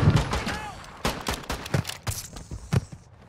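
Pistol shots ring out in a Call of Duty match, a handful of sharp, separated cracks spread across a few seconds, with players' voices chattering in between.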